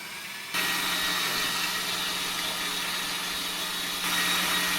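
An electric mixer whips saffron ricotta almond cake batter at moderate speed, a steady, fairly loud whirring drone that switches on after half a second and runs on unchanged, with no talking.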